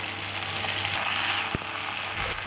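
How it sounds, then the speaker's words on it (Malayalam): Dense, loud hiss of fish frying in oil close up, with a single dull knock partway through as the fish is flipped in the pan. "ഈ മീനൊന്ന് തിരിച്ചിട്ട് കൊടുക്കാം"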